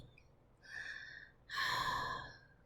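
Two drawn-out, breathy hisses, a shorter one then a louder, longer one, made by a voice imitating eerie heavy breathing, close and alone.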